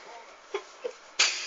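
A single sharp sneeze bursts out after a couple of faint, brief breathy sounds, close and loud against an otherwise quiet room.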